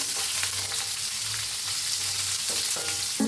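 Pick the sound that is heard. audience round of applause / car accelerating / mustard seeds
mustard seeds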